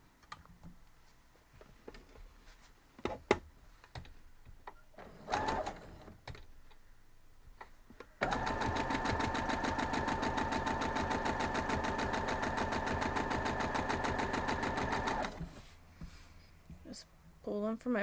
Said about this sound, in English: I'm just going to fold it over and pull it from my sewing machine.